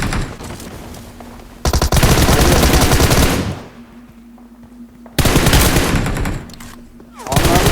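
Gunfire in the mobile game PUBG Mobile, with loud sustained bursts of automatic fire in two long volleys and quieter gaps between, close and dominant, with some voices underneath.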